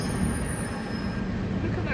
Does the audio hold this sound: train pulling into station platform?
yes